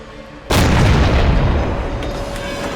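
A tank's main gun in a video game fires at enemy artillery, producing one sudden loud, close boom followed by a long rumbling decay.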